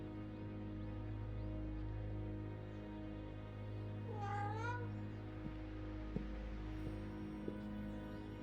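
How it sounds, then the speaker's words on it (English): A cat meows once, clear and drawn out, over a steady low hum with a few faint clicks and no talking. "Meow."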